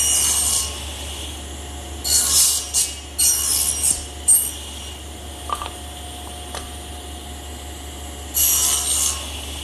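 Shoulder cuts being sawn into the edges of the wooden rails of a blanket chest: short bursts of rasping saw strokes in several clusters, with quiet gaps between them and no talking.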